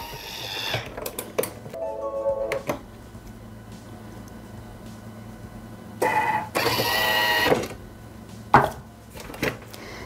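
Thermomix bowl chops pecorino and parmesan cheese at speed 10, short loud whirring and grinding bursts with clicks and knocks between them, close by and alone without speech.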